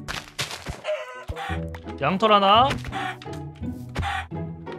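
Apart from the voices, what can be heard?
chicken being hit in Minecraft video game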